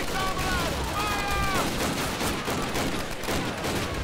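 Dense, sustained gunfire from Call of Duty: United Offensive, a steady wash of rapid shots filling the whole stretch at close range, with a few faint tonal whistles early on.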